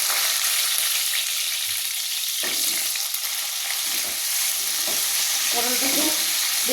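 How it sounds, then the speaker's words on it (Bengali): Pieces of pointed gourd fry in hot oil with a continuous, loud crackling sizzle, broken by a few brief scrapes and clinks of stirring. "ওই তেলে আমি পটলগুলোকে ভেজে নিচ্ছি।"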